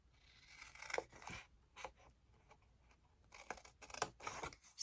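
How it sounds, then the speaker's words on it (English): Scissors snipping along a score line on paper for a gift basket, several close, crisp cuts in two clusters, quiet and without talk. "you're going to cut on the score line up to the first score line"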